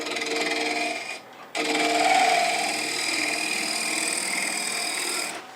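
A shear scraper rubs across a spinning wooden bowl on a lathe, giving a steady close scraping hiss that stops briefly for about a second and then resumes, with no talking.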